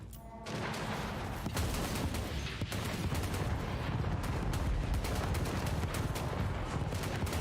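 Ogre leadbelcher cannons firing in a Warhammer 3 battle: a dense, sustained barrage of overlapping blasts and booms, loud and continuous after a brief quieter opening, with no talk over it.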